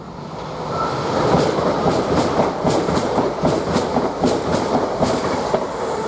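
A Lumo passenger train from London King's Cross to Glasgow runs through Durham station at speed, a steady loud roar of wheels and rail with rhythmic clickety-clack of bogies crossing rail joints throughout.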